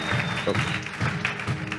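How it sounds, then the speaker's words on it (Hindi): A church congregation claps together in a steady rhythm, about two claps per second, with a faint sustained tone running underneath. "समझ रहे हो तो थोड़ा जोर से ताली बजा कर।"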